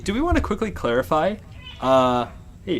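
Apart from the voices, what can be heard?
cat meowing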